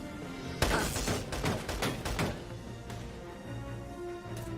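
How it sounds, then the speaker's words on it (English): Enemy gunfire in the Valkyria Chronicles 4 video game, a sudden loud burst of rapid rifle shots followed by scattered fainter reports fading out. "the enemy's firing back."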